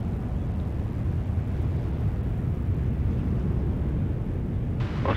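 A Regional Express (Rex) airliner departs Sydney Airport, its jet roar a steady, loud, broadband rumble that holds evenly throughout, with a brief brighter rush near the end.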